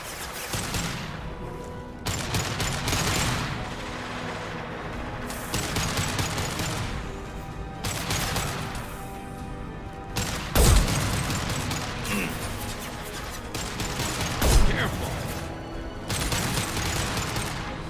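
Shootout in the video game Mass Effect 2, with rapid bursts of gunfire in repeated volleys separated by short pauses and a couple of heavier booming impacts, loud and close.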